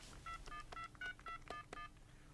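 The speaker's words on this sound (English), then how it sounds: "To make a call, you dial the number." A telephone number dialed on a touch-tone phone: seven or eight short, evenly spaced DTMF beeps in quick succession, clear and alone over faint background hiss.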